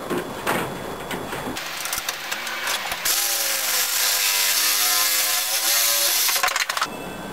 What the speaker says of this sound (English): now I'm going to cut up the PVC with my trusty DeWalt cordless reciprocating saw, or sawzall